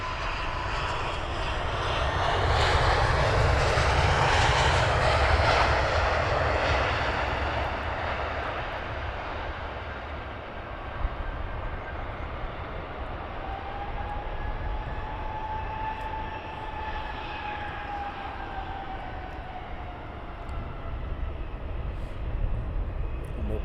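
A plane departing Luton Airport roars loudly at first, then the engine noise fades into a distant, sustained whine and rumble with a slowly shifting tone, with no talk.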